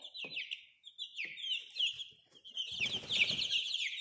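Baby chicks, including Rhode Island Reds, peep in shrill, rapid chirps close by, a steady chorus with a brief rustle or flutter of wings midway, and no talk.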